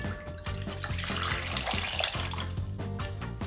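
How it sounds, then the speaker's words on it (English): Lukewarm water is poured into a bowl for bread dough, a soft, steady splashing trickle that stays faint and close for a few seconds. "I'm going to pour my lukewarm water"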